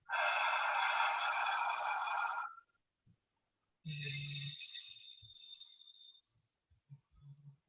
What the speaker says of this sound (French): ou une respiration qui est lisse